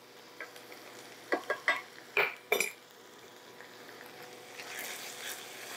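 Brown sugar stirred into a baked beans and ground beef casserole, several distinct spoon scrapes and clanks against the pot in quick succession, then a softer ongoing sizzle and shuffling, no talking.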